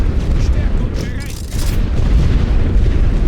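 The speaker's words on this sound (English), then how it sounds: "More artillery, going to blow up my own men for the greater good." Heavy artillery fire in the World War I strategy game The Great War: Western Front, a loud, continuous rumble of booms and blasts that fills the whole stretch without pause.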